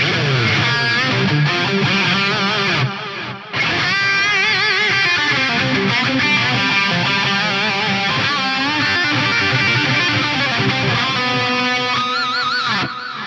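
A detuned cross-feedback delay, one side shifted up nine cents and the other down nine, turns a distorted synth line into wide, lush repeating echoes that smear and shimmer continuously, briefly dropping out near the start.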